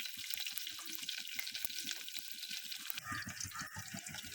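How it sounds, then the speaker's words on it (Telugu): Tempering seeds crackle and sizzle in hot oil in a pressure cooker, a quiet, busy spattering with rapid small pops throughout. "కుక్కర్లో ఆయిల్ వేసుకుని తాలింపు గింజలు వేసుకున్నాను"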